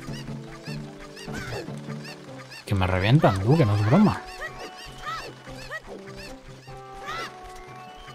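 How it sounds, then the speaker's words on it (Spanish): Cuccos, the chickens in the video game Zelda Ocarina of Time 3D, let out a loud burst of squawking midway, surrounded by game sounds and someone talking. "Gallinas homicidas"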